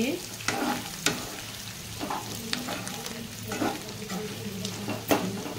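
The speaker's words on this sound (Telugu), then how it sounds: "చికెన్ ఫ్రై మీరు కూడా ఇలా చేయండి, ట్రై చేయండి." Chicken fries in a pan with a loud continuous sizzle while a spatula stirs it, scraping and knocking at irregular intervals, close up and with no voices.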